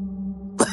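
A man lying on a wooden cot coughs in an audio drama: one short, harsh cough burst near the end, heard close over a steady low hum.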